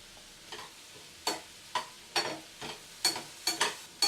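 Potatoes frying in a home kitchen pan, stirred in a series of short scraping, sizzling strokes about every half second, fairly close, with no talking.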